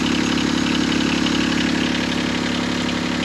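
A Yanmar engine on a NEX N12 machine idling steadily nearby, a constant mid-pitched droning hum with no voices over it.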